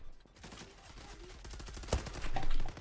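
Rapid gunfire in the first-person shooter game Zula, a fast close burst of repeated shots rattling over a couple of seconds with one sharper crack near the middle, building slightly louder toward the end.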